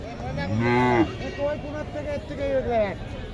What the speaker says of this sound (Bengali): এইখানে একটা গাবি দেখতেছি এটা এটা দেশি গাবি না ভালো মানের একটা দেশি গাবি